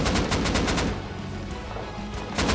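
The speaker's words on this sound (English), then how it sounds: "Another exchange of gunfire between NM and BKB" Rapid bursts of automatic gunfire in a Rust clan raid, a dense volley crackling over the first second, then duller distant shots and ambient rumble, with another burst at the very end.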